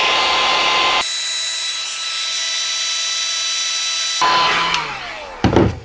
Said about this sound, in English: So much easier with a heat gun.